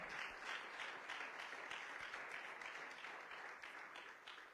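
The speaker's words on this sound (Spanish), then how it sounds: "Dele un aplauso al Señor." Church congregation applauding together during a Spanish-language sermon, a steady, dense wash of clapping that holds for several seconds and slowly fades a little toward the end.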